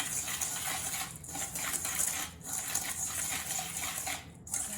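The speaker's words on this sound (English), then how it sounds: "I'm just going to whisk that together." A whisk scrapes and rattles quickly against a bowl while mixing flour and sugar, a close, steady metallic swishing with brief pauses between strokes.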